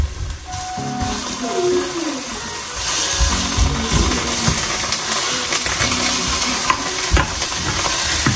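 Ground beef sautés in a hot pan with a steady loud sizzle, while a utensil scrapes and stirs through it with repeated clinks and knocks and no voices.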